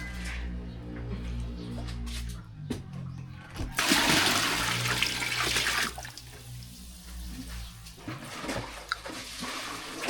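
Water gushing into a DIY swimming pool, a loud rushing burst in the middle over a low steady hum, then settling to a softer flow, with faint voices in the background.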